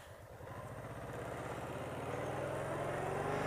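A Honda Pacific Coast 800 (PC800) motorcycle on the move, a steady low engine drone that slowly grows louder as it rides, with wind noise over it.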